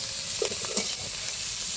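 Food frying in a pan is stirred with a spoon, giving a steady close sizzle broken by a few soft scraping strokes, with no talking.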